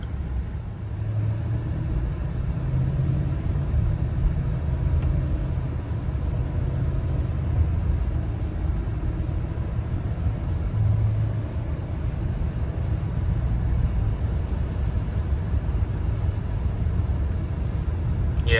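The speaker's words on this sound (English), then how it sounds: "Like right now I'm hitting my brakes. And you can see those downshifts," A 2023 GMC Sierra 3500 AT4 pickup slows under braking, its cabin filled with a steady low road and engine rumble that shifts only subtly as the transmission quietly downshifts, with no speech.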